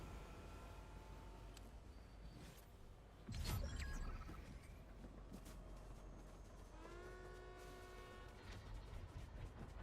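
A train rumbles past in the Star Wars season of the Fortnite video game, a steady low rolling roar with a sudden louder burst near the middle and a drawn-out horn-like tone toward the end, with no talking.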